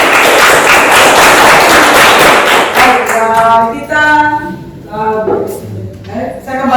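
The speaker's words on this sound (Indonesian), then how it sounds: "Terima kasih tepuk tangan." A classroom audience claps loudly after a student presentation, with dense sustained applause for about three seconds before it tapers into scattered claps under talking voices.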